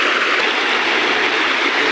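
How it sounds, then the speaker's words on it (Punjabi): Floodwater after a night of heavy rain rushes across a road, giving a steady, loud, unbroken wash of flowing water that fills the whole stretch without pause. "ਇੰਨਾ ਪਾਣੀ ਰੋਡ ਦੇ ਉੱਪਰੋਂ ਦੀ ਚੱਲਣ ਡਿਆ"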